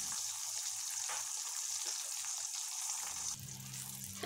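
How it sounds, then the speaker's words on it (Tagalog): Eggplant slices frying in hot oil, a dense, steady hiss and crackle close up, with the sizzle dropping and a low clatter near the end. "prituhin lang natin ang talong ng 2 minutes each side or hanggang sa mag light brown na ito"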